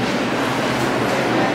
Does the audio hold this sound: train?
yes